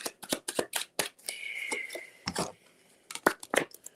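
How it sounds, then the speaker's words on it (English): A tarot deck is shuffled by hand in close, crisp bursts of riffling and snapping cards, with one longer continuous riffle in the middle and short pauses between shuffles. "3 shuffles, 1 card."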